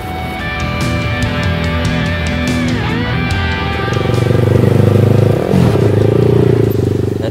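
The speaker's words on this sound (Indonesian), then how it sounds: "Dari suara knalpot, walaupun dia hanya satu lubang, tapi dia mengeluarkan 2 silencer" A Yamaha Scorpio SX225 scrambler's engine idles with a rattling single-outlet exhaust note, then revs up louder and drops back, close by, with no talking.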